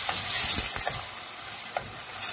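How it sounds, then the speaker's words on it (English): Pork ribs with pepper sizzle in a hot pan as a utensil gives them a quick stir, scraping and clicking against the metal over a constant close frying hiss. "pork ribs, and we just add in some pepper and we stir it, just a quick stir."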